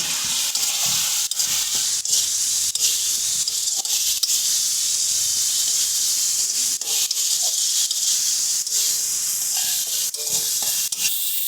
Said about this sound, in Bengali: সমস্ত কিছু দিয়ে বেশ ভালো করে মশলাটাকে কষিয়ে নেব।